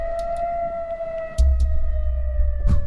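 A military base siren sounds as a steady loud tone, with a few soft thumps and a louder low rumble joining partway through.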